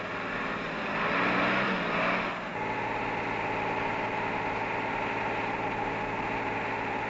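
A Unimog multi-bucket truck engine drives at a steady pace over rough terrain, a mid-pitched running drone swelling louder in the first couple of seconds, then settling into an even, continuous hum.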